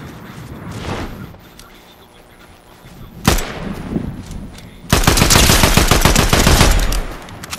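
Gunfire in a Fortnite match from a suppressed shotgun: a sharp near shot, then a sustained burst of rapid loud firing toward the end, with quieter scattered shots and ambient noise earlier.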